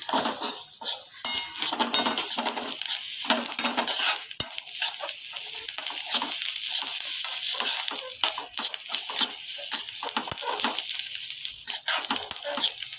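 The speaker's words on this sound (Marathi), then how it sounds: "आता कोथिंबीर त्याच्यानंतर आपल्याला मस्त आलून घ्यायचं छान" Mashed green chili thecha with coriander, salt and turmeric being stirred and pressed in a pan, giving a steady run of close scraping and clinking utensil sounds with a faint sizzle underneath.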